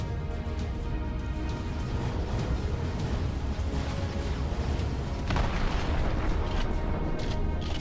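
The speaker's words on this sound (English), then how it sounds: "Something exploded, but it didn't like get the whole thing." Bombs exploding in the video game Empyrion Reforged Eden 2, a loud, sustained rumble of booming blasts with a sharper burst partway through.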